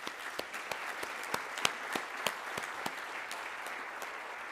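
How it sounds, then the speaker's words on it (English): An audience applauds at a school awards ceremony, a steady crowd clapping with a few louder individual claps standing out, no speech over it. "Let's give everyone a round of applause."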